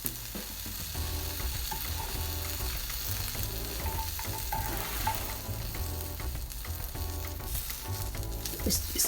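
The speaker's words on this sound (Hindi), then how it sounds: "इसको भी साइड चेंज करके दूसरी साइड से भी तकरीबन हम 3-4 मिनट पकाएंगे।" Oil-free pakoras cook in a pan, giving a steady, close sizzle with soft crackling and occasional scraping from a utensil throughout, with no talking.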